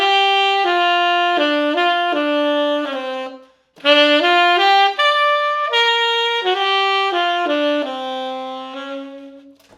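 A solo tenor saxophone plays a jazz melody, flowing sustained and stepping notes, loud and close, with a brief pause midway before the line resumes.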